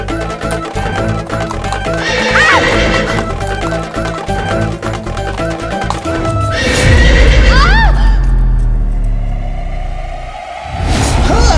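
A horse in a dramatic period scene gives loud, close neighs and whinnies over clip-clopping hooves, layered with rumbling booms and swooshing effects and a musical bed.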